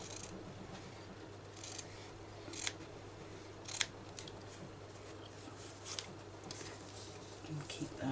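Scissors snipping through fabric pieces for needle turn applique, a few soft scattered cuts and rustles over a steady low hum, close but quiet.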